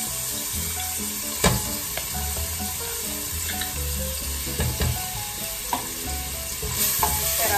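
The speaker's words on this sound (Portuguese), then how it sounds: "Vou colocar um fiozinho de azeite. Vou colocar aqui alho e cebola," Crushed garlic and onion sizzling in a drizzle of olive oil in a pot, a loud continuous frying hiss with scattered stirring scrapes and clinks.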